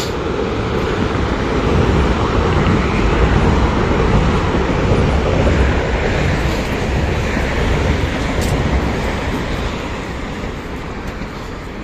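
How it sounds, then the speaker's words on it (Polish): A train passes near a river in Warsaw, a broad steady roar of wheels and rolling stock that swells and then slowly fades, with wind buffeting the microphone. "Jedzie pociąg."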